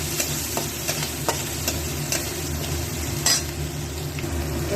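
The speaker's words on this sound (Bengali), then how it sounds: "দিয়ে দেবো একটু আদা আর কাঁচা লঙ্কা কালো জিরা ফোড়নের মধ্যে, আর দিয়ে দেবো নুন।" Ginger and green chili sizzle in a nigella seed tempering, a steady loud frying hiss with occasional stirring clinks, continuous throughout.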